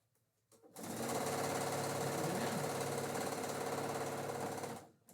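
A sewing machine stitching quilt fabric runs at a steady, fast mechanical rattle for about four seconds, starting abruptly and stopping cleanly, close and alone with no talk.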